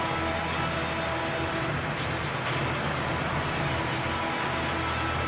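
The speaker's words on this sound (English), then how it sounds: "The home crowd truly up for it. You can hear that" Home crowd roaring inside Old Trafford in PES 2021 during a Manchester United vs Manchester City Champions League quarter-final second leg, a dense, steady wash of massed crowd noise that holds loud and unbroken throughout.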